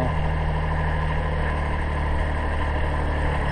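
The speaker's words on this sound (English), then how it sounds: "I'm using the tractor." A tractor engine runs steadily at idle while being used to haul garden pots and wood, a continuous low rumble held close and level throughout with no talk over it.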